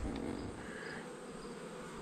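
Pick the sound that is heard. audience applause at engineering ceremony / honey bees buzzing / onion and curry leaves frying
honey bees buzzing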